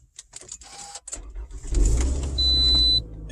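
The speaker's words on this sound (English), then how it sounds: "then I'm going to turn the car on." A Toyota RAV4 engine cranks and catches after a few faint clicks and door sounds, settling into a steady low idle rumble close by, with a thin electronic tone riding over it near the end.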